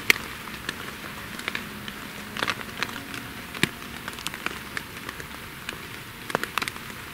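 Rain falls at night in a Transylvanian forest with a steady close patter, sharp scattered drops and crackling taps on surfaces, irregular and busy, with no one speaking.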